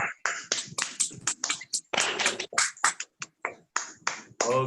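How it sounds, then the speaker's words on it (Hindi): Children clap in a Jain children's class, giving sharp, uneven bursts of claps and taps with short gaps between them, fairly close and moderately loud. "सभी पहले जोरदार तालियां बजाइए"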